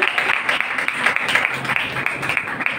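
Audience applause at a college poster competition for Professor Shakeela Yasmeen, a steady wash of many hands clapping close by, continuous through the clip with faint voices underneath.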